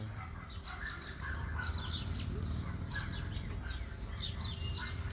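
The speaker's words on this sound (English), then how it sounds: "I can't tell the birds to shut up" Birds chirp and tweet outdoors in repeated short calls scattered through the clip, moderately distant, over a steady low rumble of background noise.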